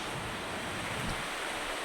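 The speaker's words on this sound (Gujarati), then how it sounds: "સુસવાટા મારે જ પવન, ધબધબાટી બોલાવે।" Strong gusting wind in a monsoon rainstorm at Moti Gop, Gujarat, roaring as a steady, loud broadband rush with no pauses and no voices.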